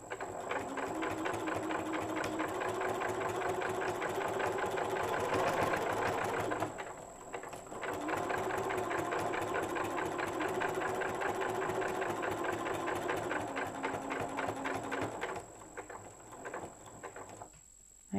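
A sewing machine stitches layers of a fabric book panel near the edge in a steady, close mechanical whir, pausing briefly partway through before running on and then stopping.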